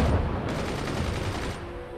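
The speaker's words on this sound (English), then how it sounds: "there are the defensive machine guns, just like I thought they were" Defensive machine guns in the video game Forts fire a sustained burst, a dense rattling stream of rapid shots heard alone for about a second.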